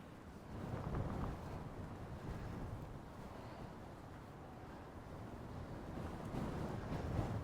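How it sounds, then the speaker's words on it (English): Strong wind blows across an open field in the UK, buffeting the microphone with a low, rumbling roar that swells and eases throughout, with no other sound standing out. "I'm probably stood in the worst possible field today because of this wind"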